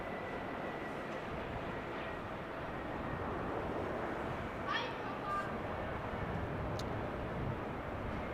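A 26-year-old Boeing 757-200 airliner, registration TF-FIN, arriving at Amsterdam Schiphol after a flight of 2 hours 42 minutes, gives a continuous broad engine roar at a distance, with a few faint brief chirps over it.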